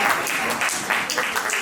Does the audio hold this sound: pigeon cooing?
no